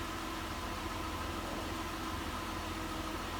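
A Mazda CX9 3.5L engine idling smoothly, a steady even hum with a constant low rumble and no misses, heard up close with no talking.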